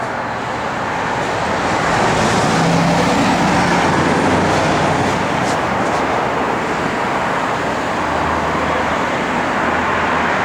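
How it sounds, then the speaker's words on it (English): Steady roadway traffic hiss and rumble from passing vehicles on a street, continuous and fairly loud, with no talking over it. "you see the traffic driving down the road."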